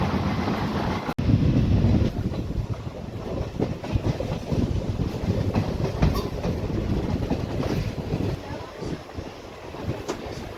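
The Pandharpur–Nizamabad Express rolls along the rails in summer heat, a loud steady rumble with rhythmic clacking of wheels over joints and gusty wind buffeting the microphone.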